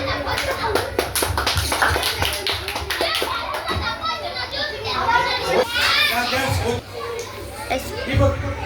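Schoolchildren in a classroom quiz clap in bursts amid excited chatter and children's voices, the claps close and sharp, with lively talking continuing over and between them.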